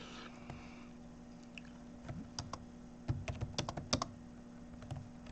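Typing on a computer keyboard while writing a long social media marketing post, a run of soft irregular key taps that cluster into quicker bursts midway, close and quiet over a faint steady hum.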